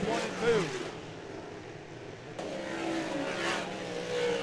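Sprint cars of the WAR Sprint League race around Charleston Speedway, engines droning and surging from a distance beneath a commentator's steady talk.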